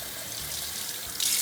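A tap runs steadily as cold water is added to a basin of hot soapy water for cleaning a chair. The water makes a short, even hiss that grows slightly louder at the end.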